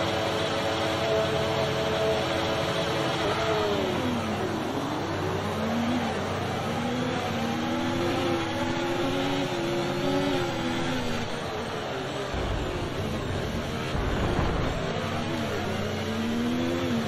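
Formula 1 cars in F1 24, lined up on the grid at the start of the main race, rev their engines together in a loud, layered whine that rises and falls in pitch, with one car near and others further back.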